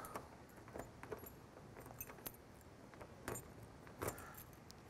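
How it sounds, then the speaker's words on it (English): Keys on a ring jangle and scrape softly as they are tried one after another in the trunk lock of a 1966 Ford Mustang, producing light metallic clinks in small irregular bursts. "Got three keys to choose from."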